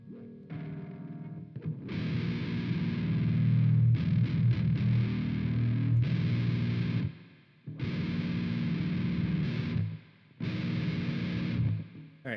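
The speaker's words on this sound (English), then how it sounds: "Now let's just add the reverb on there." Electric guitar with reverb switched on, loud close chords held and strummed in bursts, cut off by short silent gaps, ringing out with a slight tail between phrases.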